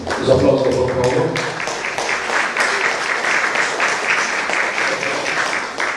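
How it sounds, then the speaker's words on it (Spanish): Audience applause fills a hall at a nutrition and anemia science seminar, steady broadband clapping throughout, with a voice audible over it near the start. "Los aplausos, por favor."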